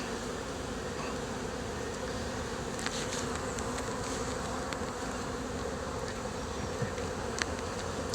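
Honeybees at an open hive frame during a colony inspection produce a continuous, dense buzzing hum, with occasional individual bees flying close past, steady and moderately quiet with no voices.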